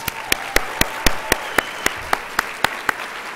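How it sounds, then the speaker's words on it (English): A lone pair of hands claps slowly and steadily for Betsy Basson at an annual conference keynote, each sharp crisp clap evenly spaced over a faint room hum. "doesn't Betsy Basson deserve a great round of applause?"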